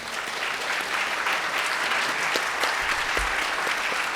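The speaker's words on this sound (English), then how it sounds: "please join me in a round of applause for our panelists" Audience applause for a panel at a manufacturing summit in Berks County, a dense, steady clapping that fills the room for the full few seconds with no voices over it.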